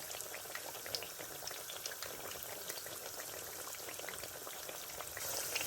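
Aloo pakora fry in oil over a low flame, giving a quiet, continuous sizzle with fine crackles and pops throughout.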